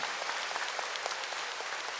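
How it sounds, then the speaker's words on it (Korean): Church congregation applauding the choir during a Sunday service, a steady patter of many hands clapping at moderate volume, fairly distant and even throughout. "그 실력으로 한번 찬양대 박수 한번 하세요"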